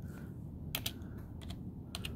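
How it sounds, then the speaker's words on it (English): A few quiet keystrokes on a computer keyboard, typed in two or three small bursts over a faint low background hum. "I'm typing in path."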